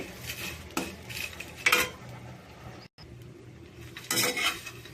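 Dried shrimp heads fry in a pan for a traditional chili powder while a utensil stirs and scrapes, giving repeated metallic clinks and bursts of rattling over a steady background, with no one speaking.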